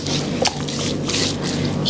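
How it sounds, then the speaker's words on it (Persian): Lemon juice is poured over a carp and rubbed into it by hand, giving soft wet squishes and drips in short bursts close up. "کمی هم آب لیمو میریزیم، مزه دار میکنیم داخل و روشو قشنگ ماساژ میدیم"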